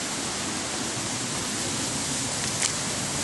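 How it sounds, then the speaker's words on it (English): Water from lake runoff pours over a waterfall in a continuous, even broadband rush that stays steady and fairly close from start to finish, with no voices over it. "I think there's a waterfall here."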